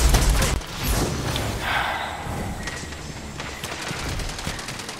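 Rapid gunfire in a Destiny 2 Crucible match played as a Hunter, with bursts of shots and impacts layered over a noisy battle mix, loud and dense throughout.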